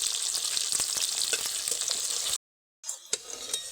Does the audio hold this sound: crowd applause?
no